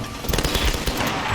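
Rifle fire in the Tomb Raider video game, a run of rapid, closely spaced shots pulsing through a thick wash of game noise and low rumble.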